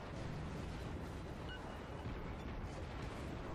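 Naval cannon fire from the German cruiser Kolberg in the World of Warships video game, a dense continuous rumble of booming gunfire with steady loud energy throughout.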